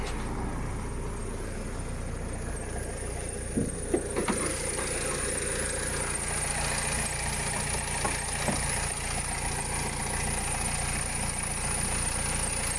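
A Renault Trafic 2.0 dCi diesel van with very high mileage idles on a cold December first start, a steady, close mid-pitched engine drone with a faint high whine and a few light knocks, no talk.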